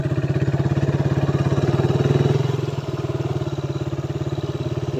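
Motorcycle engine running close by on a narrow village lane, a steady pulsing putter that dips slightly midway and then settles into an even idle-like rhythm, with no talk over it.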